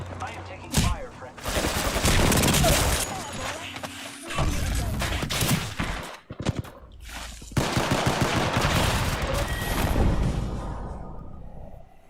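Video game gunfight with loud, dense bursts of rapid automatic gunfire, impacts and short gaps, close and continuous across the passage.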